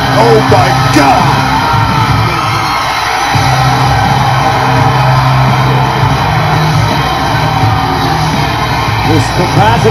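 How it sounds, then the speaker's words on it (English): A capacity arena crowd in the WWE 2K19 wrestling game screams and cheers loudly and continuously, with yells rising throughout, while commentator speech runs faintly beneath the roar. "This capacity crowd is screaming, and Sasha and Mickey are shocked."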